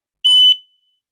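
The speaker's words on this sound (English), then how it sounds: "My fire alarm is going off." A single shrill electronic smoke alarm beep, loud and piercing, lasting about a third of a second before cutting off into silence.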